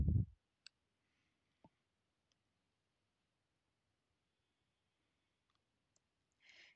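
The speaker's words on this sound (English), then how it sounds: "Now select all the email and click on delete." Computer mouse clicks, a few faint, isolated sharp ticks spread out across near-silence, with a soft thump at the start and a brief hiss at the end.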